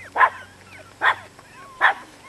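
Chihuahua puppies out on a walk give three short, sharp yapping barks at a steady pace, close and fairly loud, with quiet pauses between them.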